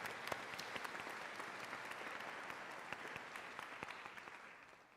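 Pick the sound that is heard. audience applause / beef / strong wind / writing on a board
audience applause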